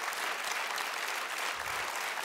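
Audience applause for a comedian on a Romanian stand-up comedy stage, dense steady clapping from a crowd filling the whole short stretch without any talk.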